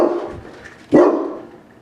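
A guard dog at the front door gives a single sharp bark partway through, close and loud, set against a low room hum.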